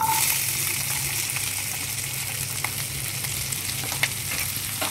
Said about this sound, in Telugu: ఈ ఉల్లిపాయలు, అల్లము, వెల్లుల్లి వేసేసుకోవాలి.